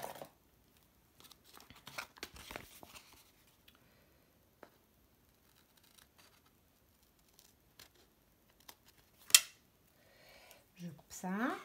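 Scissors snip paper in short bursts while a junk envelope is being made, a few crisp cuts and rustles close by amid long quiet gaps, with a brief voice near the end.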